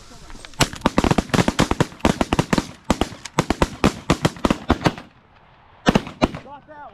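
Rapid volleys of shotgun blasts ring out during an early-season goose hunt in New York, dozens of sharp, loud reports firing in quick irregular bursts, then a pause and a few final shots.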